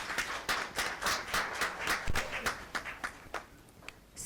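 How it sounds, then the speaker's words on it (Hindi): Loud audience applause fills a hall at a cultural event at ITC Rajputana, with dense overlapping claps that thin toward the end into a few scattered claps. "एक बार आप सबके लिए जोर से तालियां"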